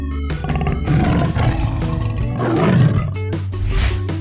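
A tiger roars loudly in a 3D animal video game, a sustained growling roar layered over steady game music, with no talking.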